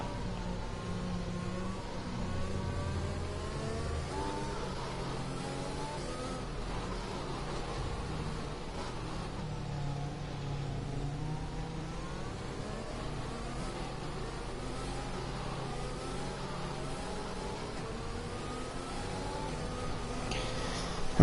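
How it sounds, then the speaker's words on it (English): Engine drone of a safety car lapping a virtual Portuguese Grand Prix circuit in an F1 racing video game, a steady continuous hum with faint pitch sweeps running throughout at even loudness. "As the safety car makes another revolution"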